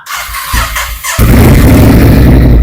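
A motorcycle with an aftermarket Workes USA exhaust fires up and runs loud and close, with a harsh, raspy exhaust roar that fills the clip.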